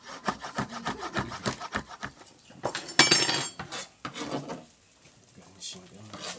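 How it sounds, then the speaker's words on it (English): A knife chopping garden lettuce and peppers on a board in a home kitchen, a close run of quick irregular scraping cuts with brief pauses, one louder rustling burst in the middle and a few light utensil clinks. "Chop your garden lettuce, then chop the peppers into small bits like you see there."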